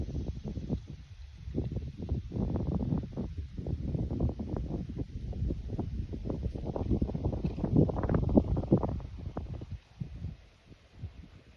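Gusty wind buffets and rumbles against the microphone in uneven bursts, loud and close, then drops away near the end.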